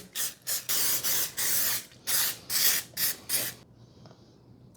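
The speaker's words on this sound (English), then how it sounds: "I'm going to grease my cake pans with a little non-stick cooking spray" Several short bursts of non-stick cooking spray hiss onto cake pans, close and loud, in an uneven rhythm of quick puffs with a longer spray, then a faint tail.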